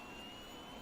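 Aircraft engine in the video game Arma 3 spinning up, a steady, fairly faint jet-like roar with a constant whine running through it, and no talk over it.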